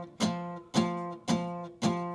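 Jazz rhythm guitar chords strummed four times in a steady pulse, each held and ringing out too long before the next, played alone and fairly close.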